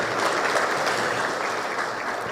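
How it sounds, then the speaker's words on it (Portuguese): A church congregation applauds in dense, sustained clapping after a sermon, steady and full throughout without pauses. "Vamos aplaudir Jesus."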